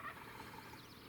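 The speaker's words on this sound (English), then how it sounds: "That's a good gobble." A wild turkey gobbles once, a single rapid rattling call at moderate distance in wet, bad weather during an upstate New York spring hunt.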